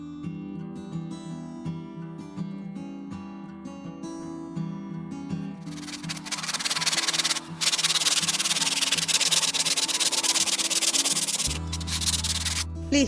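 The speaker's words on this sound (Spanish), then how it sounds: "luego vamos a lijar bien toda la superficie." Steady back-and-forth sanding on a wooden box surface, a loud scratchy rasp that starts midway and continues, with background music playing throughout.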